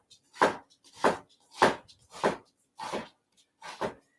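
A knife slices a red onion into julienne strips on a cutting board, producing six evenly spaced, crisp cuts about every half second, close and clear with quiet gaps between them.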